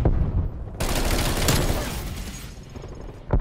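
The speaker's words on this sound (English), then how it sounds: "the bullfrogs sound kind of ridiculous." Bullfrog submachine gun from Call of Duty Black Ops Cold War fires a sustained rapid burst, dense crackling gunfire for about two seconds, close and loud, then stops briefly before a final shot.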